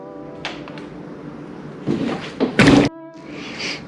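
Door card pried off the door of a right-hand-drive Mazda RX-7 FC3S Turbo II under restoration: several close, loud clunks and plastic clip pops, the biggest pair near the end, with quiet pauses between.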